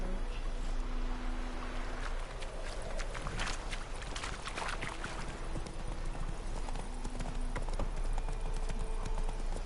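Hooves of the horse Roach clip-clop steadily in the Witcher 3 video game, a continuous nearby trotting rhythm over a busy game soundscape, with no talking.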